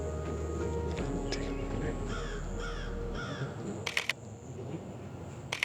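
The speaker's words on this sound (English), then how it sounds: "It's a bird behind me." A bird behind the person outdoors gives repeated harsh calls in short bursts, fairly close, over a steady low hum, with a few sharp clicks near the end.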